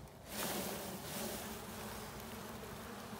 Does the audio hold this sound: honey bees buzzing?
yes